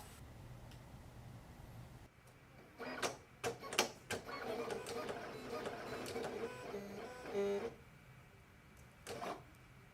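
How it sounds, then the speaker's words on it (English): A Silhouette Cameo 5 cutting machine runs a test cut on new material, giving a steady mechanical whir with a cluster of sharp clicks and motor bursts midway, then a final brief pulse near the end. "To make a test cut, load your material into the machine and click Test."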